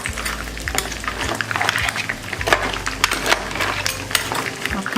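Seafood stew with tilapia bubbling on a stove while being stirred, a steady close wet churn of boiling liquid with scattered clicks and knocks of the spoon and a low hum underneath.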